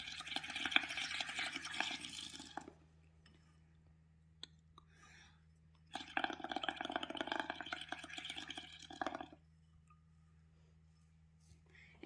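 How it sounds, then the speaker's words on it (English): Paint and dish soap are stirred and blown into bubbles in a bowl, giving two bursts of bubbling, gurgling froth separated by quiet, under a steady low hum, with no talking. "first mix the paints and the dish soap like this and then make bubbles"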